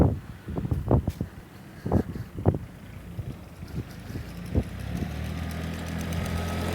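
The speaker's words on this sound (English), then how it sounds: "So he's plugging at probably about 6 or 7 miles an hour, and it's leaving great plugs." An Everything Attachments Xtreme Duty lawn plugger aerates a lawn behind a running tractor engine, with repeated thumps as the tines punch the soil and a steady mechanical drone underneath, plus some wind noise.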